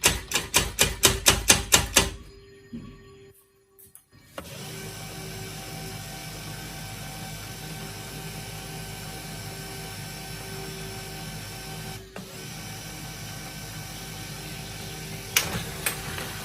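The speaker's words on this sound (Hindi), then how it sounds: "अभी सेल्फ प्रिंट टेस्ट लेके देखते हैं" An HP LaserJet P1102w laser printer with a paper feed fault prints a self-test page: a quick run of sharp mechanical clicks, a brief pause, then a steady whirring drone that runs on with a few small knocks.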